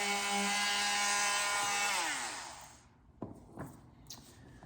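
A handheld oscillating multi-tool buzzes steadily through white oak for about two seconds, then winds down, leaving a few short knocks and scrapes in the quiet that follows.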